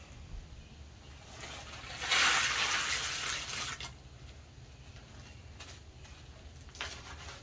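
Water spills over the rim of a small container standing in for an ocean during a tabletop demonstration. Low trickling builds into a louder pouring splash for about two seconds, then fades back to faint dribbles with a brief splash near the end.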